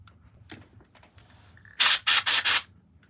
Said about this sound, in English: Spray that the other way.